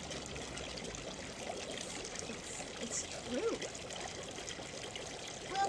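A misty waterfall gives off a steady, faint rushing of water, a continuous broad wash with a few splashy trickles, while people talk quietly nearby.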